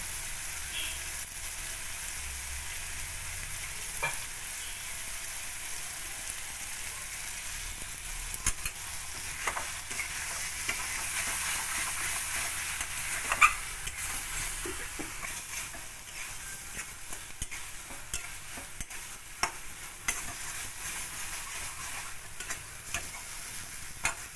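Ground taro leaf paste with turmeric frying in a wok, heard close as a steady sizzle with frequent scraping and stirring clicks throughout.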